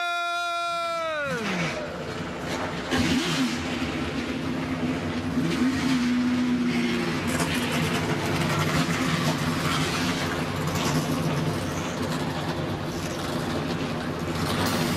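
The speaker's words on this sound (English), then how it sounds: "Drivers, start your engine!" Several ARCA stock car engines crank and fire up at Daytona International Speedway, then settle into a loud, continuous rumbling idle with occasional revs, close and sustained throughout.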